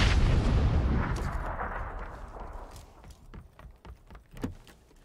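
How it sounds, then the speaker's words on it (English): A heavy blast in the video game PUBG booms and rolls away, followed by scattered distant gunshots popping faintly as the noise fades. "You're getting shot at."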